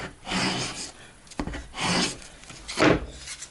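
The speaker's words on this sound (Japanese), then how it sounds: "一度ここのはみ出たボンドだけ削ってみます" Dried wood glue scraped off a plywood panel for a camper van interior, three rasping strokes in a steady back-and-forth rhythm, close and moderately loud with no talking.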